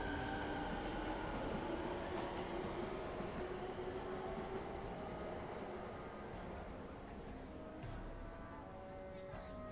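A train passes through a station in the video game 13 Sentinels: Aegis Rim, a loud continuous rumble with rail squeal that gradually eases, under faint background voices.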